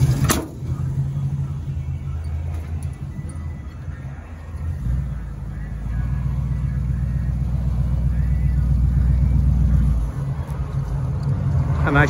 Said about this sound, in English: I'm gonna let you pull around the parking lot here and show it